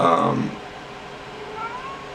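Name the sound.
cat meowing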